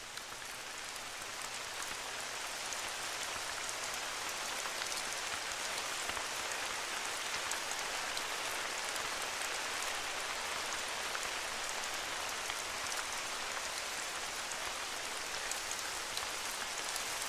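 Steady rain falls in the hunting game The Hunter: Call of the Wild, a dense, continuous hiss of drops on surfaces that stays even and fairly loud throughout, with no voices.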